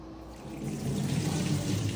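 Water drains steadily from freshly washed pomegranate in a kitchen, making a continuous close trickling and splashing wash for about two seconds, alone with no talking.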